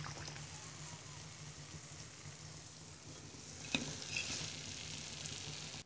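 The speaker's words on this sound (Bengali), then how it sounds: "ডিমের পান্তুয়া পিঠাটি ভাজা হয়ে গেছে" Egg pantua pitha frying in hot oil gives a steady, continuous sizzle at low volume, with a brief crackle partway through and no talking.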